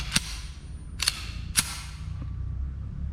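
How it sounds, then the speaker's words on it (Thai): A sport shooting pistol with a very light trigger fires three sharp, clear shots, about a second apart, followed by a faint click, all fairly close in a quiet setting. "ต่อไปผมจะยิง ให้ดูนะครับว่า ครับผมการทำงานของปืนเป็นยังไงบ้างนะครับ"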